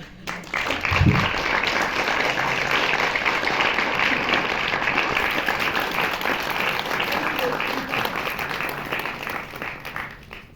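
Sustained applause from a cinema audience at an avant-premiere screening of the film About Kim So-hee with the director present, dense clapping at steady volume for about ten seconds, with a brief low thump near the start.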